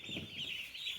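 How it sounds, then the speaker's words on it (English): Bright yellow broiler chicks peep in a continuous, overlapping chorus of high chirps, close by and fairly soft, with no talking over them. "So, just in time for Easter are these adorable, bright yellow little chickies."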